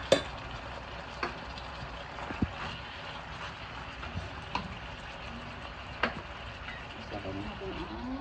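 Blanched broccoli stir-fried with beef in a pan, a low continuous sizzle punctuated by sharp spatula taps against the pan at irregular intervals, with a voice faintly present.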